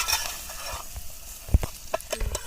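Fish curry with potatoes being stirred in a pot, with a soft sizzle underneath and a cluster of scraping, clinking strokes from a spoon against the metal toward the end.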